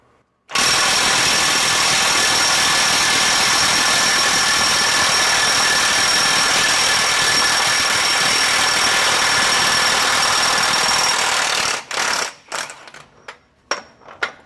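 A RIDGID 18V 3/4-inch high torque impact wrench runs in reverse at speed 3, a loud continuous hammering whir lasting about eleven seconds, then cutting off into a few short bursts and clunks.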